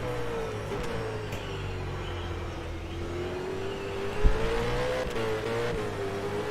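Onboard a V8 race car at Winton, the engine drones steadily up close with a smooth rising and falling pitch through a corner, plus a sharp brief thump near the end, with no talk.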